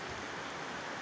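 Rain falls steadily as a dense, even hiss of droplets, fairly faint and continuous, with no voices or other sounds.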